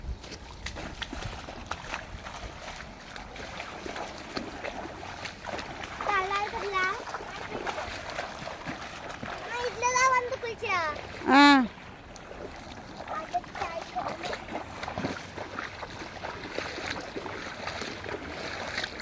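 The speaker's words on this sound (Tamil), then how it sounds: "ஸோ தண்ணியில் என் பிள்ளைங்க நடந்து போயிட்டுருக்குறாங்க" Children wade along a flooded irrigation channel in a coconut garden, producing intermittent close splashes and sloshing water, with a voice and adult talk over a steady outdoor background.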